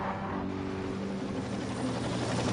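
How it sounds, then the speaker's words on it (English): A low-flying helicopter in a racing video game on the Dragon Trail Seaside circuit gives off a steady, droning rotor and engine hum, loud and continuous throughout. "Why on earth is that helicopter so low sometimes?"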